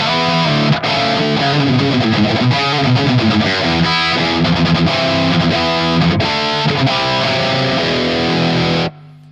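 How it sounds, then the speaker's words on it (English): Electric guitar played through the lead channel of a Line 6 HX studio preamp, loud distorted lead phrases ringing continuously for about nine seconds before cutting off abruptly. "That's just the studio preamp lead channel"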